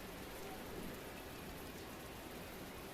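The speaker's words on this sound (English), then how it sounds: "It's raining." Steady rain pours down in a village within a video game, a dense, even hiss of falling drops with a faint low rumble beneath and no talking.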